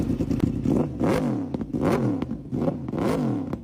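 A 2011 Yamaha R1 with a Movistar body kit revs in repeated bursts, its engine note rising and falling roughly every second as exhaust roars close and loud with no talk.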